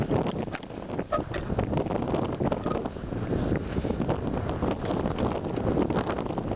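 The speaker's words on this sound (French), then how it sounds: "Désolé, il y a du vent là." Loud, continuous wind buffeting the microphone outdoors beside a Kymco K-Pipe 50 motorbike, a rough low rumble with gusty bursts throughout and no clear talk.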